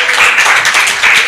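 Conference audience applauding at an opening ceremony, a dense steady wash of clapping hands filling the whole short stretch at a loud, even level.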